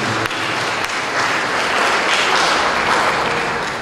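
A church congregation at a thanksgiving memorial Mass claps loudly in praise of the Lord Jesus, a dense, sustained wash of applause filling the hall from start to finish.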